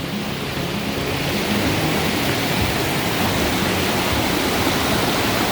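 A river running high rushes over a low water dam at Robbers Cave, a steady, loud broadband roar of churning water that holds constant throughout with no voices.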